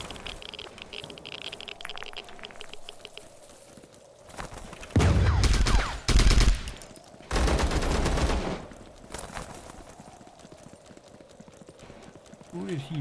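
Gunfire in the video game Zero Sievert: several loud, dense bursts of automatic fire cluster in the middle of the clip, with a quieter background and a voice before and after.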